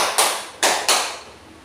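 A group clap game with three sharp hand claps at an uneven rhythm, close and fairly loud, each ringing briefly before fading into quiet.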